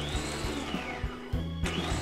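A food processor pulses falafel mixture with onion in short, repeated whirring bursts. The motor whine rises and drops with each pulse, loud and close, with no talking.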